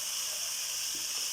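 Spices and black pepper frying hard in a handi for chicken makhni, a steady, bright sizzling hiss that stays even and close throughout with no voices.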